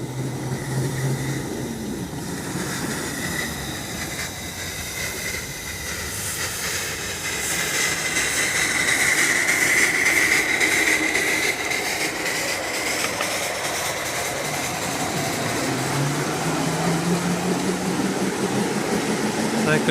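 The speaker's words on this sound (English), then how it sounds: "I see Jim's got the blower on full blast" Live steam locomotive blower roaring steadily on full blast at a miniature railway club, a broad hiss with train rumble beneath and swelling slightly midway.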